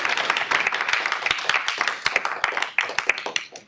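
Scattered audience clapping at an academic symposium, a handful of distinct close hand claps in an uneven rhythm that thins out over a few seconds.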